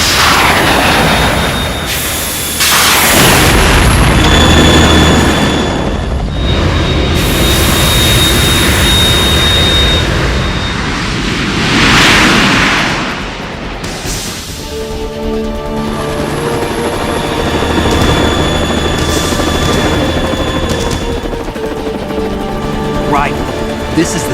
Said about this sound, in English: The Kasaka can't stand up to the Harrier. You have to shoot the Harrier down.